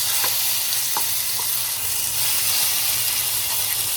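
Chicken marinated in soy sauce and garlic powder fries in a pan with ginger, giving a steady, close sizzle and hiss throughout, with a few faint clicks and no talking.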